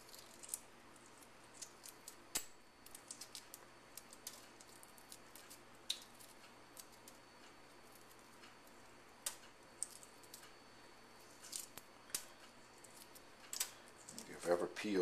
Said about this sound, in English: If you've ever peeled a really fresh egg, you'll know that what I'm doing here is a lot easier than it normally is.